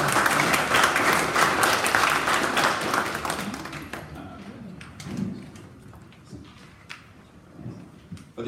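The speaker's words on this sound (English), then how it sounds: "Everyone, round of applause." Applause at a council meeting, a dense round of clapping for the newly chosen Deputy Mayor, loud for about four seconds and then thinning to scattered claps with faint room noise.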